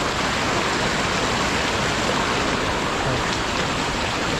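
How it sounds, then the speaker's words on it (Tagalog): Loud, constant rush of water gushing hard from a rural water line pipe, a dense steady roar with no pauses throughout. "ganito kalakas na tubig na darating dun sa amin"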